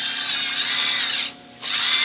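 A power drill running steadily while rifling a gun barrel, a loud close high whine that stops briefly for a moment and then spins back up.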